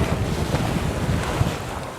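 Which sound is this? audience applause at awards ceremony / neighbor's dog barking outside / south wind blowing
south wind blowing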